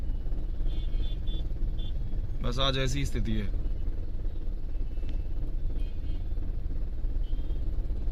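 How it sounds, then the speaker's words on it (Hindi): Heavy road traffic packs a roundabout in Bulandshahr on election day, a constant loud rumble of engines with a brief horn-like burst; someone speaks over it. "ट्रैफिक ही ट्रैफिक, चारों तरफ ट्रैफिक ही ट्रैफिक।"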